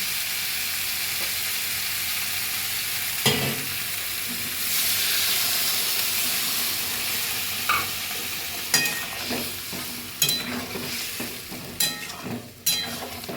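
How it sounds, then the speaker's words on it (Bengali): Warm water poured into sizzling fried spice masala for a ridge gourd curry, a steady hiss that swells into a rushing burst, followed by repeated sharp spoon knocks and scrapes against the pan. "এবার আমি একটু উষ্ণ গরম জল ঢেলে দিচ্ছি"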